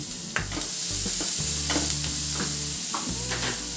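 Tablespoon of chili paste sizzling in hot oil with asafoetida and curry leaves for samosa filling, stirred steadily in a pan; continuous close frying hiss with repeated scraping strokes of the spoon, no talking.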